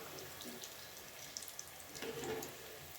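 Gulab jamun frying in boiling ghee at low heat, a faint steady sizzle and bubbling, close and continuous with a few small pops.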